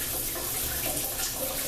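Hotel shower head in a Sheraton Boston executive suite, running as a dense, steady hiss of spraying water, close and continuous, with no voices.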